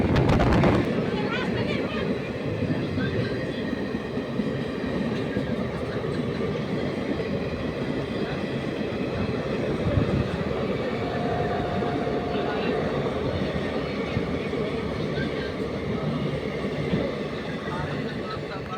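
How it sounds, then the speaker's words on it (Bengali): The Falaknuma Express passenger train from Secunderabad to Howrah runs on the rails near Kharagpur with a steady, loud, continuous rumble and rattle that never lets up. "তো 1428 কিলোমিটার যাত্রা শেষ করে আমাদের ট্রেন এখন পৌঁছালো খড়গপুরে।"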